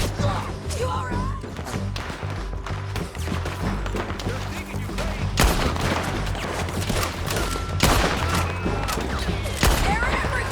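Dense gunfire from a Red Dead Redemption 2 shootout, with rapid overlapping shots and heavy bursts running throughout at a steady loud level, mixed with game music and scattered shouting voices.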